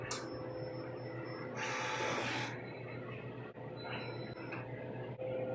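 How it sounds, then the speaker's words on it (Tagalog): A DTF printer running a head cleaning cycle hums and whirs steadily, with a louder burst of rushing motor noise partway through and small clicks and tones. "Mag-head clean po ako."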